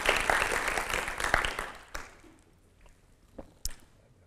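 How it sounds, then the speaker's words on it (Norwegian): A Norwegian Venstre party national board meeting audience claps during a climate policy speech: a burst of applause that is loud at first, thins out and fades after a couple of seconds, leaving a few scattered late claps. "det synes jeg er verdt å klappe for."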